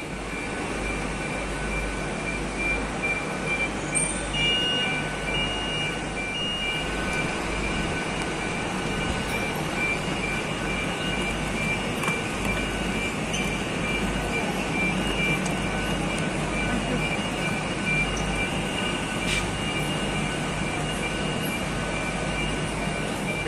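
A GWR Class 800 train, unit 800 003, stands at London Paddington under a steady, loud, unbroken hum of engine and station noise, with faint tonal whines throughout and no talking.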